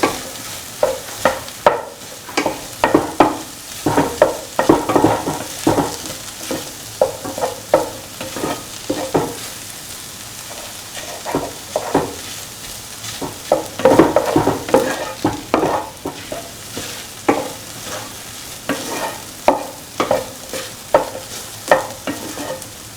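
Eggs scrambled and sautéed in a pan for a coconut milk and potato stir fry, with steady sizzling and frying under repeated rhythmic scraping and stirring strokes of a utensil against the pan, continuing throughout.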